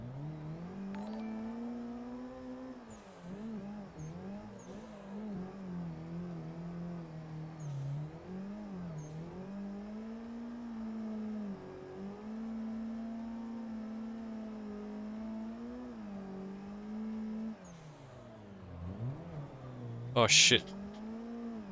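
A car engine in the Assetto Corsa racing game drones and revs up and down through long drifts, a steady mid-level whine that rises and dips, with a man's brief exclamation and a sharp spike near the end.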